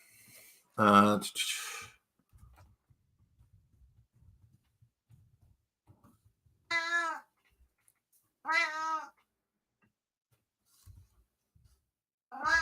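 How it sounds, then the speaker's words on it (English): A cat meows loudly up close three times, spaced apart by quiet pauses with faint rustling in between. "Yes, Kitty, I hear you"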